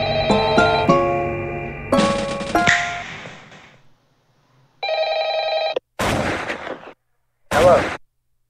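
A telephone rings in the video game Five Nights at Friend Circle, with loud tonal ringing phrases that step in pitch, followed by pauses and several short, harsh bursts of noise.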